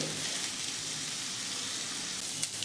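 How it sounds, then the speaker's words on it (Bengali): Dried red chilli spluttering in hot oil in a wok gives a steady, dense sizzle and crackle throughout, fairly loud and close, with a couple of sharper pops near the end and no talking. "এবারে এর ভেতরে যে শুকনো লঙ্কাটা রেখেছিলাম সেটা ফাটিয়ে দিলাম"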